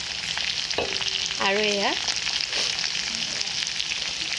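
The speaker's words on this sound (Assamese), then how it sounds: "এতিয়া ফ্ৰাই কৰি থোৱা আলুকেইডোখৰ দি দিছোঁ" Fried potato pieces go into a pan of browned pork, kicking off a steady, close sizzle and frying hiss that runs throughout, with a brief spoken phrase over it.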